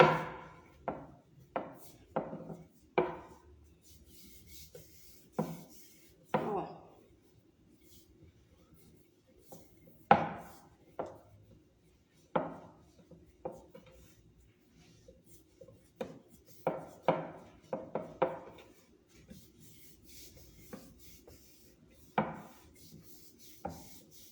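Bread dough worked with a wooden rolling pin on a counter: sharp knocks and short rolling rubs spaced out over time, close and fairly quiet, with no talk.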